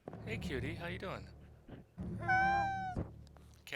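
A cat meows once, clear and close, in a drawn-out call between stretches of a person talking nearby.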